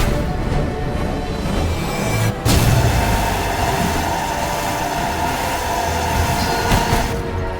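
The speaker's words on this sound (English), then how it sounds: "Really good sound effect on that beam." A loud, roaring beam attack from the Death's Door game, a dense rumbling rush of noise that keeps going for several seconds, with a short gap then a heavy boom as it resumes.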